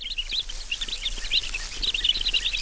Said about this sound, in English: three baby birds in the nest.